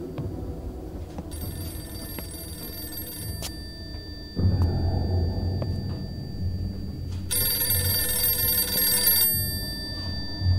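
A telephone rings in repeated bursts, loud and close, with a steady electronic tone and brief pauses between rings and no talking.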